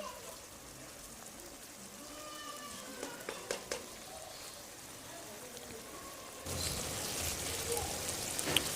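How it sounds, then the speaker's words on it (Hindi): Lobia (black-eyed peas) frying in oil in a pan, a steady soft sizzle and crackle throughout, swelling louder and brighter near the end, with faint background sounds. "लोबिया हमने डाल दिया है और इसको हम खूब फ्राई करेंगे।"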